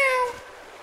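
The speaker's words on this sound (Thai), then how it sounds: "พอดีแมวเหมียวมาเล่นด้วย" A cat meows once inside the video game Mini Ninjas, a clear, loud call with a falling tone that tails off quickly.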